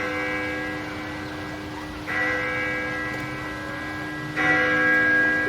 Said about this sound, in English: The bell invites me.